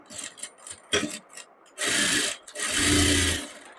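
Stitching on a padded blouse: a sewing machine makes short stuttering bursts, then two longer steady whirring runs, close by and fairly loud.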